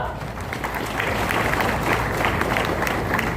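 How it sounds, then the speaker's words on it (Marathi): Crowd at a Samadhan Shibir rally in Jat, Sangli district, breaking into loud, sustained applause, a dense wash of clapping with scattered voices throughout. "जोरदार टाळ्या वाजवा"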